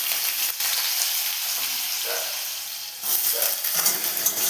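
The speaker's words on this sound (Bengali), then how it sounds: "আলু দিয়ে ভালো করে ভেজে নেব।" Potatoes frying in a pan of oil with dried red chillies and bay leaves, a steady loud sizzle throughout that swells louder near the end, with no talking.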